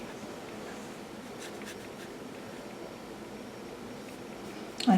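A mid-range watercolour brush loaded with Schmincke paint strokes across paper in a quiet, continuous faint swish and scratch, close up, with a brief louder tap at the end.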